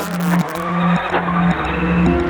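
Rally race cars driven by Travis Pastrana and Robbie Durant heading onto the stages, engines revving loudly and close in repeated rising shifts, with tire noise and bursts of acceleration.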